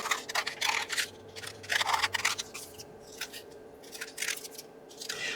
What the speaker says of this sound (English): I'm going to trim my paper away from my envelope.